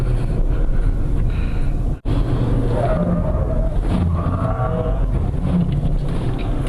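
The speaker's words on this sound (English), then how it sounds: "Now it's some sporty driving. It is an SUV, but can be sporty. And good braking." An SUV driven sportily, heard from inside the cabin as a steady engine drone with road and wind rumble, briefly cut out by a momentary dropout partway through.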